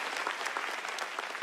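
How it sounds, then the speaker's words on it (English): An audience claps throughout a large tech keynote hall at NVIDIA GTC in Taipei, a dense, even burst of many hands that lasts the whole moment. "A round of applause for math."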